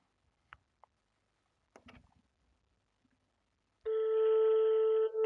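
After a few faint clicks and handling noises, a telephone call's ringing tone starts and sounds as a single loud, steady electronic tone for about a second and a half before it cuts off.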